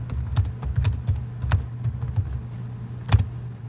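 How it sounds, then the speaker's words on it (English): Quick bursts of computer keyboard typing, close and fairly quiet, with irregular clusters of key clicks, short pauses between them and one sharper keystroke near the end. "what you have to do is you type the text"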